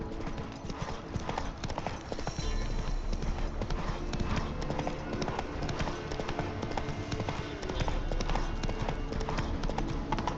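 Geralt's horse Roach gallops in The Witcher 3, a fast, steady run of hoofbeats clattering continuously throughout, close and even.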